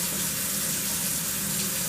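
Worn 400-grit sandpaper rinsed under running water while prepping a postwar frame for paint: a steady, close hiss of flowing tap water that never lets up.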